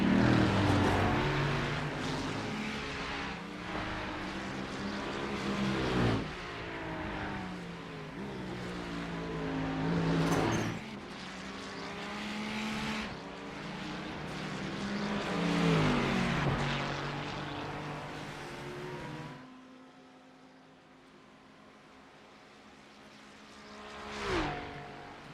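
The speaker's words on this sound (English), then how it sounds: "Sometimes you just got to sit quietly and enjoy the grunt, the sound, the muscle of these cars." V8 race car engines in a Super2 V8 racing video game, loud harmonic engine drones rising and falling as cars rev, shift and pass close by, one after another, with a quieter lull near the end and no talking.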